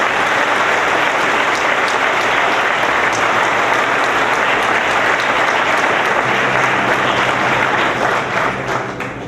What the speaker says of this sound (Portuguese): Podem aplaudir ao Senhor Jesus.